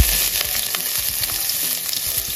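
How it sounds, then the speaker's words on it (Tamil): Mustard seeds splutter and pop in hot oil, a dense crackling sizzle with sharp irregular bursts, close and loud, with no talking. "இந்த கடுகை போட்டு முதல்ல இந்த கடுகு வெடிச்சுன்னு வருது"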